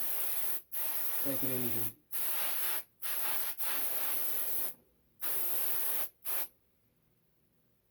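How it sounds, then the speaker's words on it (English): Short hissing bursts from an airbrush laying brown base paint onto a latex foam prop, sprayed in about six separate blasts with brief silent gaps between them, close up, and someone talking softly in one of the pauses. "I'm not going to go wide open on my airbrush"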